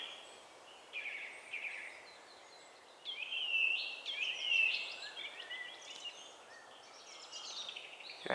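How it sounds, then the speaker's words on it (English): Birds sing at a forest edge at sunrise, scattered whistles and chirps from a few birds at moderate distance, louder bursts in the middle over a quiet, calm background. "The birds are proper on form this morning."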